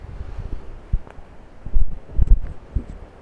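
Gusty wind buffets the microphone in a vegetable garden in low, uneven rumbling bursts, strongest near the end, with no voices.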